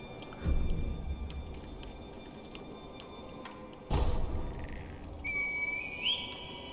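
Rising, clear whistled notes from a character in Sekiro: Shadows Die Twice sound near the end over ambient game atmosphere, with a soft thud partway through and no one talking.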